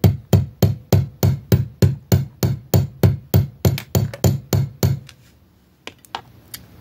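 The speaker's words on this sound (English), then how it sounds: "drop the hammer onto the loop to flatten it." A hammer strikes a wire loop on a metal bench block in a steady rhythm, about fifteen sharp close taps, then a few lighter scattered taps before it stops.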